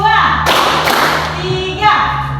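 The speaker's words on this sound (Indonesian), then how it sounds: "Tepuk tiga. Tepuk dua. Tepuk satu. Tepuk dua." Schoolchildren in a classroom clap together in a counted clapping pattern, a loud, close burst of hands under a teacher's speech and a sustained tone.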